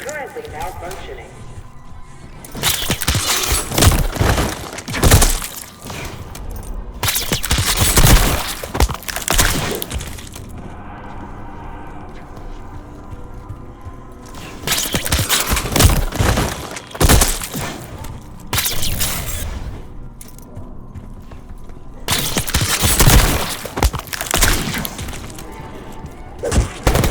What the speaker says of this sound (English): Hearing gunfire? Yeah, sounds like it's coming from one of the lower floors.